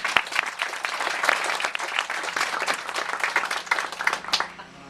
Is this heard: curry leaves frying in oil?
no